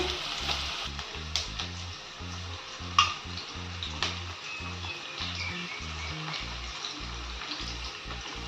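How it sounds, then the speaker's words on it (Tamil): Mustard seeds and chopped medium-sized onion frying in hot oil for a Tamil greens and dal dish, a steady close sizzle with scattered crackles and pops, joined by a repeating low rhythmic pulse throughout. "கடுகு நல்லா பொரிஞ்சதும் ஒரு மீடியம் சைஸ் வெங்காயம் கட் பண்ணி வச்சுருந்தேன் அதையும் சேர்த்துக்கிறேன்"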